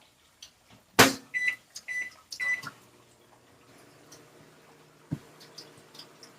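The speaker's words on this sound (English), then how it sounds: "put this in the microwave" A kitchen microwave oven in use, with a loud clunk of the door, several short beeps from the control panel, then a faint steady running hum and a light click near the end.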